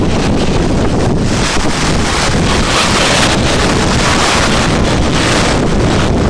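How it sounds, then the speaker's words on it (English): Strong wind buffeting the microphone and rushing water from the wake while sailing a catamaran at sea during a 1994 solo Atlantic crossing, a loud, continuous roar with no talk. "the wind's picked up in the right direction, and we're having a real super sail"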